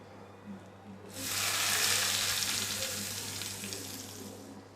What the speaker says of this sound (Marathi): चला आता हा तडका आहे ना तो चटणीमध्ये घालूया